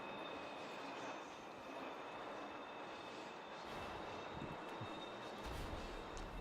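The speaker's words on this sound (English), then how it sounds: "we're going to wait for the train to pass here." A train rumbles past in the video game Destiny 2, a steady, dense roar with faint high metallic whine, sustained throughout without speech.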